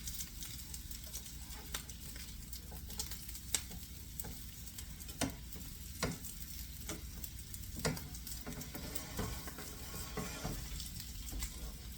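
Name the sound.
bacon frying in a pan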